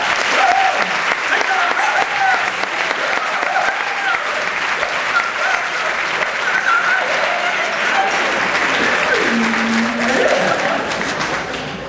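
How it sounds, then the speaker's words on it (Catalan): An audience gives a long, steady round of applause for Pot de Plom, a theatre company founded in Alcoi, performing in l'Olleria. The dense clapping holds without a break, with faint voices beneath it. "Un aplaudiment, vinga!"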